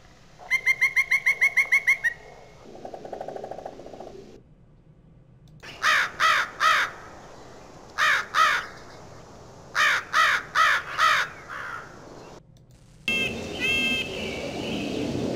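Harsh crow caws ring out in short bursts of two or three, with other bird calls and chirps outdoors between them.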